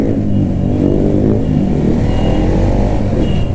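A KTM Duke 390 motorcycle pulls hard on the road, its engine droning loud and close with a rising, gritty roar under wind noise, without pause for the whole stretch.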